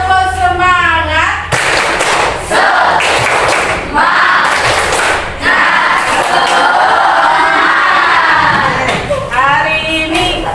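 A group of participants doing the Indonesian rhythmic spirit clap in a morning training session, loud bursts of patterned clapping with crowd noise and shouting voices between.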